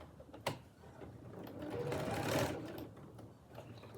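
A sewing machine stitches an apron, whirring in a steady run that swells to its loudest around the middle and then eases off, with a sharp tap near the start.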